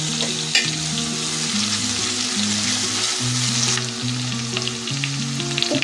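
Sliced onion, green chilli and curry leaves fry in hot oil for a Kerala-style clam roast, giving a steady, close, continuous sizzle and crackle with occasional stirring, while a melodic tone runs underneath throughout.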